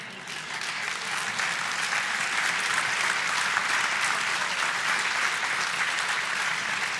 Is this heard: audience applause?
yes